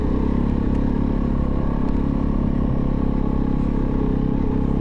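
A Kove 450 Rally motorcycle cruising on a street at steady highway speed, its engine droning continuously under heavy wind rush, loud and close throughout with no talking.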